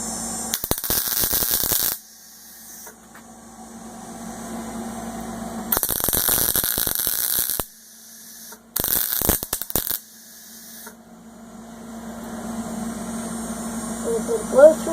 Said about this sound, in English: I can do a continuous weld in a spiral type of motion all the way until my flange starts